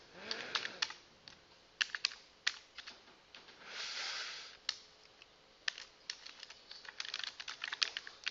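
Fingers tap on a computer keyboard in irregular clusters of crisp, close clicks, with brief pauses between bursts while an Ubuntu installation is set up.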